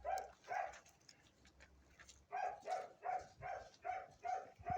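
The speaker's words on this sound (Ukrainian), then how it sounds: "Когось одного не випустиш, то фоном буде гавкать." A dog barks repeatedly in the background, a pair of yaps at the start, then a pause, then a steady run of evenly spaced barks at moderate loudness. No one speaks.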